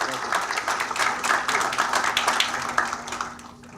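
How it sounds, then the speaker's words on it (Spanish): An audience at an assembly welcomes an engineer with loud, sustained applause, many hands clapping close by before it tapers off at the end. "Les pido por favor que recibamos al ingeniero José Alonso Palé Vargas con un fuerte aplauso."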